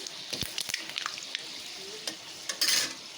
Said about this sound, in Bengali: তো শুকনো লঙ্কাটা ভাজি হোক। তো বন্ধুরা এই দেখো, শুকনো লঙ্কাটা আমার একদম লাল লাল হয়ে গেছে, আর দিয়ে দিলাম ফোড়ন।